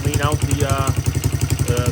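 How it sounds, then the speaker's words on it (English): Small single-cylinder engine of a 1985 Honda XR100 motorcycle, carburetor needle raised to lean the mixture, revving repeatedly in a steady pulsing rhythm, close and loud throughout. "Revving it up a little bit, it's a lot cleaner."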